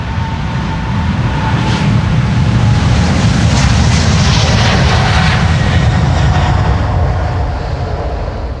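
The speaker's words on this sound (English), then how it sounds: "This 777 is 20 years old already" A 20-year-old KLM Boeing 777 departing runway 36L at Schiphol, a loud, close, sustained jet engine roar with a broad rumble that holds steady and eases slightly at the end, no voices.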